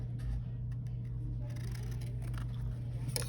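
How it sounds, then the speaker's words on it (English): Scissors snip a triangle from scrap yellow paper for a cardinal's beak, giving a few quick, faint cuts close by over a constant low hum. "I'm just going to cut a triangle shape"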